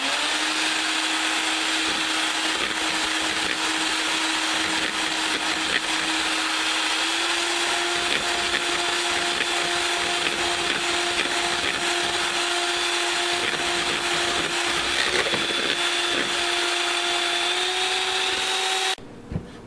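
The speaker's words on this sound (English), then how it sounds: "I'm using a handheld mixer today" Handheld electric mixer whipping egg whites for meringue, a loud steady whirring motor hum held close and unbroken for nearly twenty seconds before cutting off abruptly.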